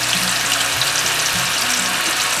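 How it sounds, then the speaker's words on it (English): Tofu pieces sizzle in hot oil, a loud, dense crackle that holds steady throughout, with faint bubbling and clinks beneath it. "Now that the oil is nice and hot, we're going to drop the tofu"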